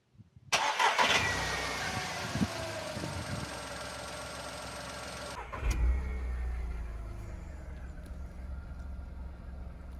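A VW Polo fitted with a performance air filter starts up and settles into a steady idle close by, a sharp crank at the start, then a brief rev bump before a low, even running rumble.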